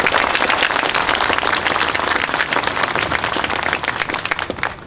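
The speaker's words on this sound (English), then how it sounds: "So Sam, here's a round of applause for you." Audience applause for Sam Jones at a Veterans Day presentation in Kingsport, a loud, dense burst of many hands clapping that holds steady before gradually thinning out.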